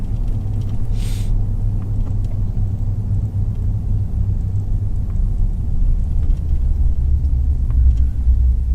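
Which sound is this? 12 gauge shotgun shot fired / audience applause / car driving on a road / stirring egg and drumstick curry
car driving on a road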